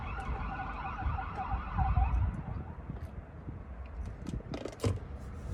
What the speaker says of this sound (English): in the ambulance, the sirens.